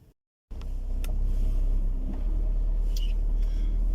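A car driving along a road in the Hebrides, heard from inside as a steady low engine and road rumble after a brief cut of silence, with a few faint clicks over it.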